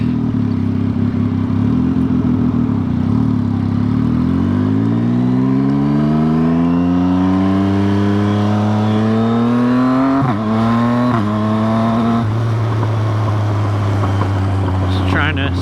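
A motorcycle engine hums close by while riding, with its pitch rising smoothly as the bike accelerates and dipping briefly at the gear changes before settling into a steady drone.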